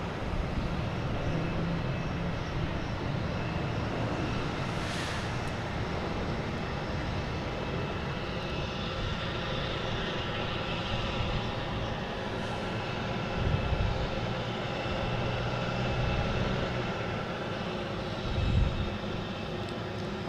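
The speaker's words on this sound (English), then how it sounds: "arriving, we have a JetBlue coming in from Jacksonville" A JetBlue jet arriving from Jacksonville at Boston Logan produces a steady, distant engine drone that holds at an even level throughout, with faint passing swells.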